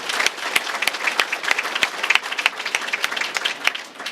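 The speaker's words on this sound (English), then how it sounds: "if we could give a warm round of applause to all of our door prize donors" Applause from the crowd at a chamber of commerce banquet and auction, with individual claps standing out sharply in an uneven, lively rhythm that carries on for several seconds.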